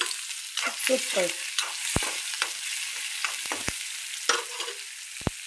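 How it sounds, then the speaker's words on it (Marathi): Garlic sizzling in oil in a pan, a bright hiss broken by scraping stirs and a few sharp knocks of the spoon, close up, with a brief spoken remark. "थोडा लसूण जरा हे होऊ द्यायचा. तरी मस्त तेलात."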